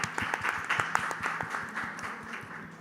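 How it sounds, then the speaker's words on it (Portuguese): A panel audience at an international forum gives a short round of applause, a steady wash of many hands clapping that slowly fades over a few seconds. "Uma salva de palmas."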